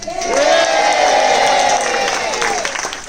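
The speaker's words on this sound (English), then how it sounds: "We are going to add cheers to that applause." Cheering and applause from an audience at a 2019 talent show aboard the Prinsendam cruise ship, a loud sustained roar of clapping with whoops and shouted voices layered on top.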